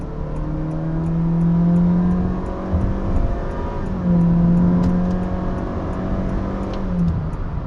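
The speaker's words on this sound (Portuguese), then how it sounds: "Então, vou fazer uma ultrapassagem aqui agora." A Honda City engine with a CVT gearbox revs up in two strong surges while overtaking, the pitch rising and falling as it accelerates, with steady road and wind noise underneath.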